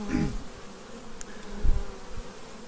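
Bees buzzing around a beehive, a close, steady droning hum with a brief louder low thump partway through, and no talking.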